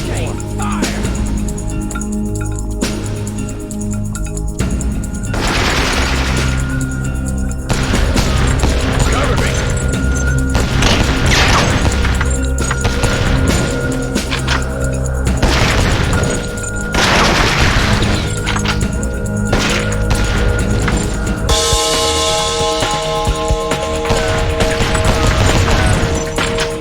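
Relentless gunfire and explosions from the CT Special Forces: Fire for Effect video game, loud and dense, with rapid bursts, heavy booms and crashes running nonstop under continuous music.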